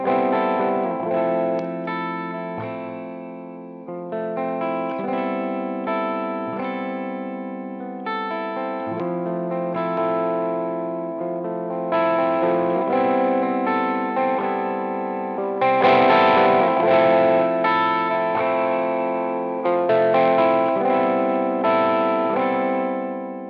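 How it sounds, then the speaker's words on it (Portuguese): An electric guitar plays through a JoyFX Dumb overdrive pedal into a clean amp with no crunch. Chords and melodic lines ring out loud and slightly driven with a touch of echo, continuous for over twenty seconds with no voice. "vou deixar o ampli sem crunch algum, vou fazer isso totalmente no pedal"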